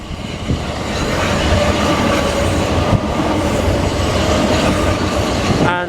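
A Class 375 electric train passes St John's station up close, a loud steady rumble with rhythmic wheel clicks and a brief squeal at the end.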